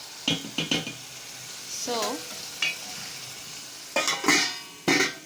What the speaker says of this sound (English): as the meat cooks,